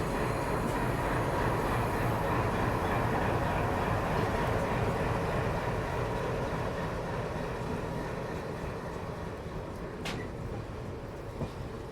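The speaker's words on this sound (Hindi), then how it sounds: "एल्को लोकोमोटिव के दर्शन भी हो गए। WDM 3D।" An ALCO WDM 3D diesel locomotive train rumbles steadily and loudly for the whole stretch, a continuous heavy railway roar that fades only slightly toward the end.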